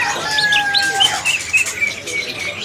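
A male white-rumped shama sings close by, a rapid series of clear whistled notes and chirps with a sweeping high phrase, over faint background hiss.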